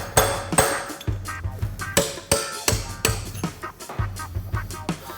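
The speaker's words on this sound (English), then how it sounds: "I'm gonna chip away at it, and then I'm gonna split it with a chisel" A hammer drives a chisel into a nut while the drivetrain of a Milwaukee Eight motorcycle is being upgraded. Roughly a dozen sharp, close metallic strikes land in an uneven rhythm, with brief ringing between blows.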